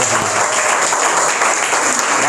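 Steady, dense applause from a sizeable audience, loud and continuous throughout with no pauses.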